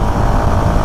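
A Keeway K300N motorcycle engine snarls loud and close during an aggressive downshift, a dense, rough burst of revving with no pause.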